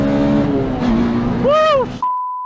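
A K20-swapped Toyota MR2 Spyder accelerates hard in second gear onto a freeway, its engine note loud and close from inside, rising steadily in pitch before cutting off into a brief steady electronic tone.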